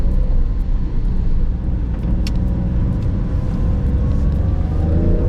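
A Porsche 911 996 drives through a left-hand turn on wet roads, a steady loud engine drone with road and tyre rumble heard from inside the car, holding even throughout.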